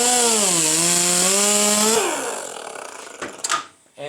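Die grinder spinning a wire wheel against a metal CNC lathe ball screw, a loud whining tone that dips and rises for about two seconds, then winds down into scratchy rubbing and brief clatters.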